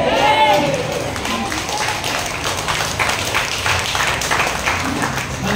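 An audience at an outdoor church gathering in Baseco, Tondo, Manila, clapping steadily throughout, a dense mass of hand claps at moderate volume with no pauses.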